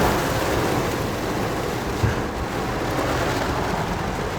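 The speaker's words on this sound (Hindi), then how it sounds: "आवाज़ सुनो बारिश की।" Steady, dense rain pouring down in Dehradun, India, a continuous loud hiss with no voices.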